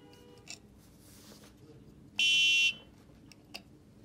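A household gas alarm sounds one loud, shrill electronic buzzer beep lasting about half a second at power-on, clear against a quiet room.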